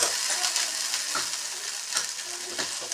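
Burmese-style prawn masala with onions frying in a pan, a steady bright sizzle with occasional stirring scrapes, close and continuous with no talking.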